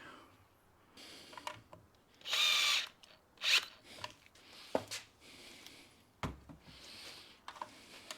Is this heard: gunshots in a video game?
no